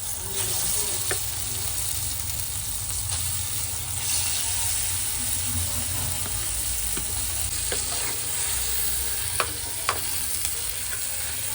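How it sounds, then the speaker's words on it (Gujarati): Steady sizzling in hot ghee under repeated scraping stirs of a spoon through thick mashed sweet potato, close and continuous. "હવે આપણે શક્કરિયાને બરોબર મિક્સ કરી લેવાના છે."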